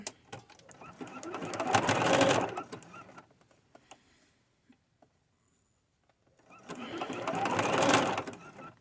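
A sewing machine badly in need of oil sews skirt fabric in two swelling runs of about two seconds each, separated by a near-silent pause with faint clicks, heard close up.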